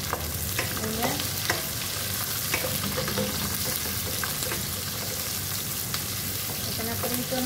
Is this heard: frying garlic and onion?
yes